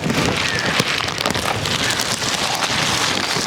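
Steady heavy rain pours outdoors at a food-serving gathering in Tiruvannamalai, a dense continuous hiss of drops striking surfaces with a little wind, filling the whole stretch with no voices.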